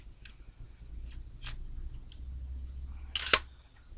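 The bolt release on an airsoft M4 rifle being worked, heard as a few faint ticks followed by one sharper, louder metallic click near the end.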